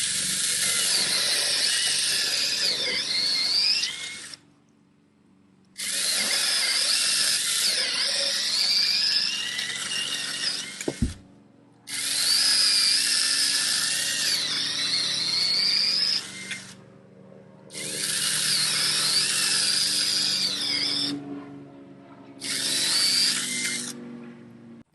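A Sainlogic 6-inch mini electric chainsaw cuts through wood in five separate high-pitched whining bursts with short silent pauses between them, close and loud, with a sharp knock partway through and no speech.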